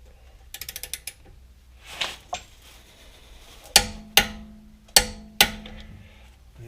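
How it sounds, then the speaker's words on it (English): Torque wrench tightening the front axle nut on a BMW F10 528i xDrive: a quick run of ratchet clicks, a couple of soft scrapes, then four loud, evenly spaced metallic clicks, close and clear with no talking. "So we'll start with a torque wrench, and we'll go to 150."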